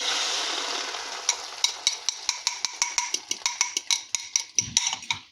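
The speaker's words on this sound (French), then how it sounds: "Et on est parti pour faire cuire cette magnifique omelette. Écoutez-moi ce bruit, c'est juste magnifique." An omelette frying in a pan, a soft, steady sizzle with a run of sharp, rhythmic clicks of a utensil against the pan, quiet and close, with no talking.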